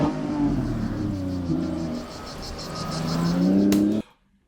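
A Lamborghini Revuelto engine revs loudly and steadily, pitch climbing and falling, then cuts off abruptly into silence.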